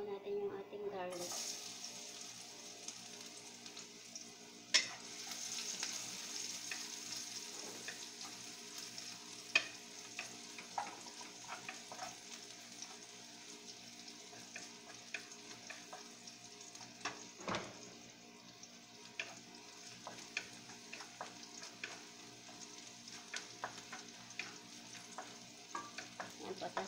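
Garlic sizzles in hot oil in a pan for chopsuey, a steady close frying hiss broken by frequent clinks and scrapes of stirring, with talk nearby.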